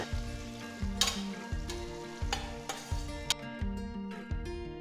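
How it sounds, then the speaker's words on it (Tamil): Sliced onions sizzle and crackle in a hot pan, with a regular rhythm of stirring strokes and no talking. "நல்ல கோல்டன் ப்ரௌன் கலருக்கு வதக்குங்க."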